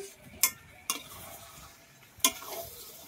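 Mutton being stirred with spices in a pan, with three sharp scraping knocks of a spoon against the pan over a soft, faint sizzle, and no voices.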